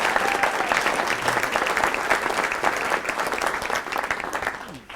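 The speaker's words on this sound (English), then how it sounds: "A round of applause for Greg Blake." Attendees at a lunchtime learning talk applaud, a close, steady crowd clapping with crisp individual claps that keeps an even level and tapers off at the very end.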